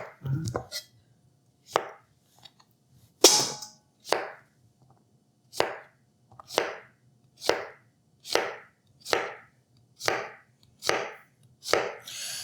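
A knife chops steadily on a cutting board, about a dozen crisp, evenly spaced strokes, close and clear with no talking.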